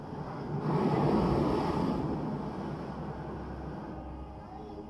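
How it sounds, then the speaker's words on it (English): Rough ocean waves and powerful wind roar together in a broad, steady rush of surf that swells early and then eases slightly, with no distinct voices. "Unbroken by other land masses and driven by powerful winds, this is one of the roughest ocean passages in the world."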